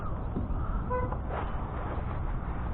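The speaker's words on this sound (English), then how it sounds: "I don't know what the hell they're honking for." A car horn toots briefly from traffic near a bridge during kayak fishing, a short moderately distant honk set in a constant low rumble of road and wind noise.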